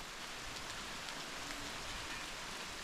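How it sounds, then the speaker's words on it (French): Rain begins falling in big drops outdoors in Provence on a summer day, a steady soft hiss of pattering drops, faint and even throughout with no voices. "Ça y est, il commence à pleuvoir."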